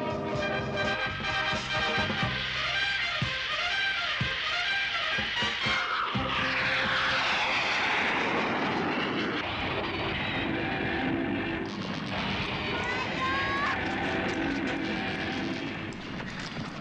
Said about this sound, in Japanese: ジェットコンドル発進。